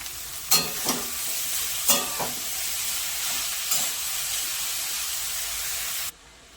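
Grated carrot with a pinch of salt frying in a pan, a steady close sizzle broken by a few sharp spatula scrapes and stirs in the first four seconds before cutting off abruptly.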